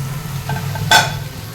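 Raw chicken hitting a pan of sautéed onion-tomato masala with turmeric for Chettinad chicken kuzhambu, giving a sudden loud sizzle burst over a steady low cooking hiss, close up with no talking.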